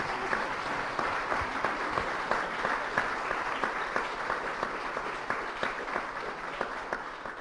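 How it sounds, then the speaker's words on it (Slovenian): Sustained audience applause at a live evening book talk, dense steady clapping from a seated crowd filling the whole stretch without letting up. "Karli, kar ploskajte."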